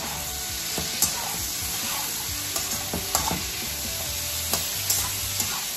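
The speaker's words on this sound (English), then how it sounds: "So now I'm gonna go ahead and add in the onion and the chili, the two little Thai chilies." Onion and two small Thai chilies fry in a pan with a constant bright sizzle, punctuated by repeated scraping knocks as they are stirred around.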